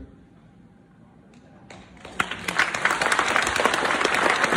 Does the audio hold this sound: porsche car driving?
no